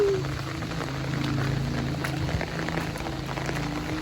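Heavy habagat monsoon rain pours down steadily, a dense, constant hiss of drops close by with no pauses.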